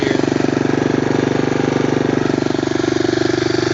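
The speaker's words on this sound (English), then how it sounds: "To get it to idle like it is now, you just gotta pump up the choke" A Honda 250SX motorcycle engine idles steadily on choke, a loud, close, even rapid putter with a constant beat and no revving, running alone for the whole stretch.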